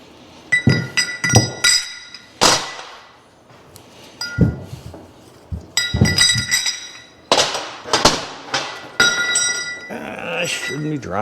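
Steel 3-inch trailer lift blocks dropped and clanking against each other in a shop, a series of loud metallic clinks and bangs in irregular bursts, with ringing tones and some background noise.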